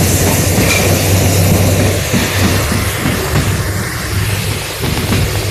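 Romanian regional passenger train R16123 running from Timișoara Nord toward Timișoara Vest and Cruceni, heard from onboard as a steady loud rumble with a low hum and faint rhythmic wheel clicks, no voices.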